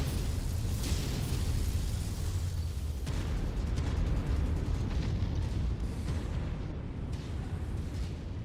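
Missile explosions in the MechWarrior 5 video game rumble in a dense, continuous barrage of deep booms and bursts, loud and heavy throughout with no clear gaps.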